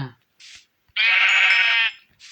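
Sheep in a Minecraft-style survival game, one long, loud synthetic bleat lasting nearly a second, clean and close, framed by short bursts of someone talking.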